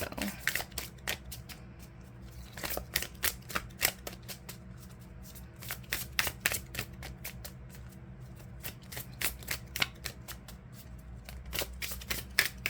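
Oracle cards are shuffled by hand in repeated crisp riffles and flicks, close and fairly quiet, with brief pauses between bursts.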